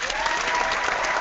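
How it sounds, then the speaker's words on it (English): Dense, steady applause from a crowd, loud and continuous throughout with no pauses. "round of applause here"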